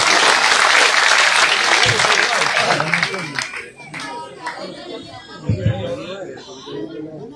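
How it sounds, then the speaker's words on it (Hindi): A crowd at a village political rally claps loudly and energetically, the applause fading gradually into murmuring and scattered voices near the end. "एक बार जोरदार तालियों के साथ देवेंद्र कादर जी का हौसला बढ़ाएं"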